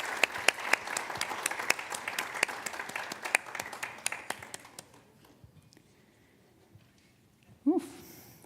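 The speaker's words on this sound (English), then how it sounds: "A big applause for Vint." Sharp scattered claps from a small audience ring out, thinning and fading over several seconds before a brief voice cuts in at the end.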